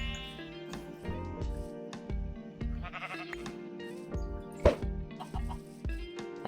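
Sheep bleat in the Minecraft video game among farm animals and background music, a few distinct bleats rising over the steady music.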